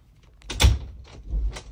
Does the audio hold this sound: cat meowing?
no